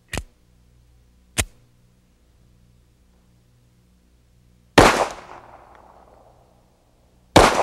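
Pistol shots firing 185 grain Winchester Silvertip ammunition in a low-light shooting session: two sharp cracks early, then a louder report with a decaying echo, and one more shot at the end, each separated by quiet.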